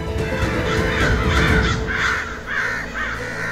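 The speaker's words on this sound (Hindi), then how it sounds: "कौओं की आवाज है" Crows cawing in a series of four or five harsh calls, close and loud over a steady low outdoor rumble, in a Hindi television drama scene.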